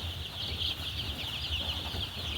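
Four-day-old chicks in a poultry pen keep up a constant chorus of high, overlapping peeps and cheeps, close and continuous over a low background rumble.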